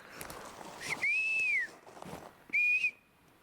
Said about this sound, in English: I got to whistle because I want them to know